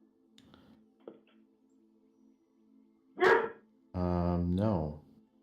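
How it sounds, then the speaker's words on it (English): A sleeping dog dreams nearby: faint snuffles and small yips at first, then a loud drawn-out whine followed by a longer whimpering vocalization. "Sorry if you hear snoring. Oh, or I have a dog dreaming next to me."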